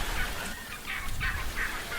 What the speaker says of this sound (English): The turkeys are behind me. They're eating corn.